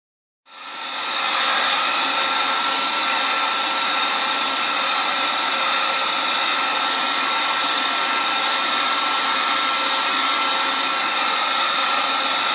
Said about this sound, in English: I know that's very crude, using a heat gun.